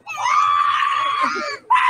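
An iguana in Florida letting out a shrill, harmonic, goat-like scream that holds steady for about a second and a half, then breaks off briefly before a second loud cry begins.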